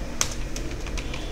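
Quick bursts of keystrokes on a computer keyboard, a handful of close, crisp clicks tapping out an irregular rhythm, with no one speaking.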